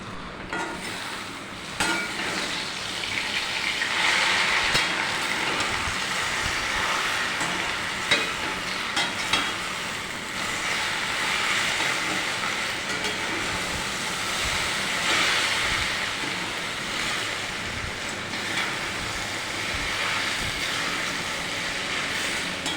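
Potatoes frying in a pan for a Bengali aloo bhaji, a loud continuous sizzle with rustling stirring running steadily throughout, close up and without talk.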